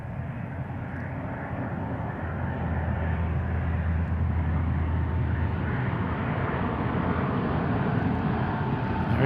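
Turkish Airlines jet airliner landing at Seattle airport, a steady broadband engine roar that holds at a constant loud level throughout, with a low droning hum underneath and no talking.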